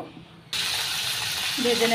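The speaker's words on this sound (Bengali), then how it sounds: "কড়াইতে তেল দিয়ে দিয়েছি, এবার মাছগুলো ভেজে নেব।" Tilapia fish go into hot oil in a wok. After a quiet moment, a loud, steady frying sizzle bursts in and carries on, and a voice is briefly heard near the end.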